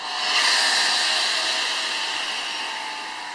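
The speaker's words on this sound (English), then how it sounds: "And open this valve to release the vacuum." Steady airy hiss as vacuum is released through a valve on a VME-200L vacuum emulsifying cosmetic mixer, loud at onset and holding nearly constant for a few seconds with no talk.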